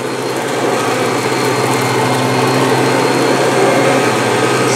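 A Kirby G3 vacuum cleaner with a 7-amp motor runs steadily on carpet, its loud, even motor whine and brush agitation continuous and close throughout with no talking.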